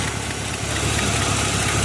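A truck with a freshly swapped 350 engine and a slight exhaust leak idles close by, giving a steady, rumbling drone that holds even throughout the brief moment.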